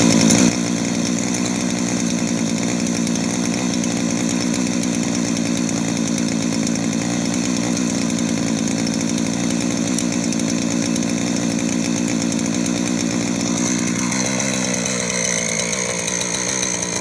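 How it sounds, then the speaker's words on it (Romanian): A small engine idles steadily as it warms up before being put to work plowing furrows, a loud continuous buzzing drone like a chainsaw that shifts pitch slightly near the end. "Lăsăm motorul să se încălzească puțin"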